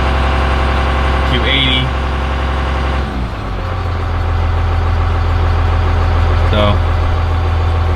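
A Cummins diesel truck engine idles with a loud, deep rumble, rises briefly in a short rev near the middle, then settles back to a steady idle while someone talks over it close by.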